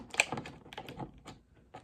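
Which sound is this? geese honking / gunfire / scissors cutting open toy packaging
scissors cutting open toy packaging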